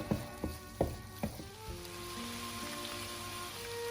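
Shallots sauté in a pan for a saffron and lemon risotto, first with a few sharp utensil taps, then a steady, close frying sizzle over soft music.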